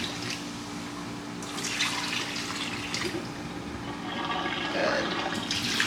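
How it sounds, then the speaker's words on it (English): Hot water poured into a sink drain after a large amount of baking soda, a steady rushing, gurgling flow that swells and fades over several seconds at close range, with no talking. "let's add the hot water."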